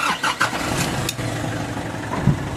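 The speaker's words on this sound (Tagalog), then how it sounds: "Tapos pwede mo nang i-start itong makina." Nissan car engine cranking briefly and catching, then settling into a steady close idle, with no talking.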